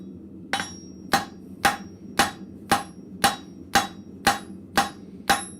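A blacksmith's hammer strikes hot metal on an anvil while drawing a square taper point at a forge, ten evenly spaced ringing blows about half a second apart, loud and close with a steady background hum.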